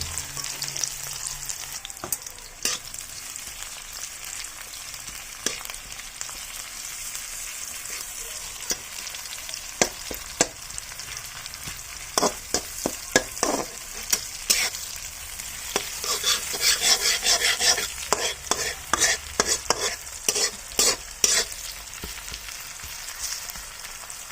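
Food frying in hot oil in a home kitchen, a constant crackling sizzle broken by sharp scraping clicks as a utensil stirs the pan, the strokes coming thicker toward the end.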